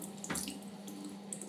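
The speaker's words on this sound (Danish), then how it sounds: "Vi tager noget lidt vand." Tap water runs steadily into a sink in a steady, close hiss with small splashy bursts, used for wetting hands while styling hair, with no talking.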